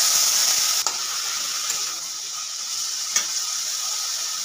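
Dry red chilies crackle and sizzle in hot oil while being tempered for a dish of cooked greens, a steady broadband frying hiss with a couple of sharp pops, near and with no talk.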